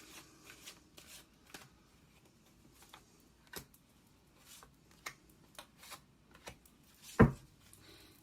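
Large Black Moon Astrology cards are shuffled and drawn in a quiet room, a run of soft scattered flicks and slaps with one louder snap near the end.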